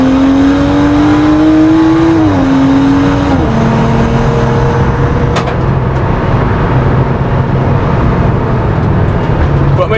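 A 400bhp BMW M135i race car drives on a circuit, its engine droning loud and close from inside the car with rising pitch through the gears, a couple of quick shifts, then a steady roar.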